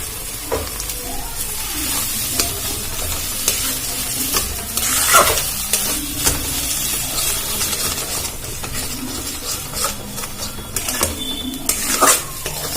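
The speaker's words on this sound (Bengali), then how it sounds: "সেই ধনে পাতাটা এর মধ্যে দিয়ে দেবো দিয়ে খুব ভালো করে এটা মিশিয়ে দেবো" Chopped coriander leaves are stirred into a sizzling mixture in a pan for a vegetarian snack, with repeated scraping and clattering strokes of the spatula over a steady frying hiss, close and fairly loud.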